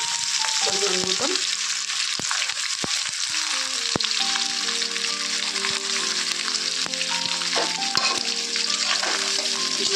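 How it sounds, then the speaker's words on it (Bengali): Whole garam masala and bay leaves frying in hot oil for prawn pulao, a steady loud sizzle and crackle that runs the whole way through with occasional stirring scrapes, no voices. "মধ্যে দিয়ে দেবো গোটা গরম মশলা ফোড়নে, আর তার সঙ্গে দিয়ে দেবো কয়েকটা তেজপাতা।"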